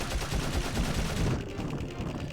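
Rapid automatic gunfire from Osmond in the video game Dark Cloud, a fast stream of close, loud shots that thins out toward the end.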